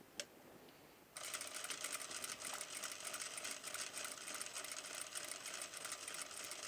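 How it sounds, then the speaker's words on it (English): A sewing machine stitching a bar tack, starting after about a second of quiet and then running in a fast, even, close buzzing chatter that holds steady to the end. "Start with bar tack."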